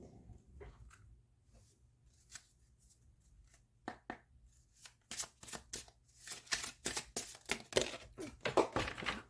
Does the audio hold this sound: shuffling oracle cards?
yes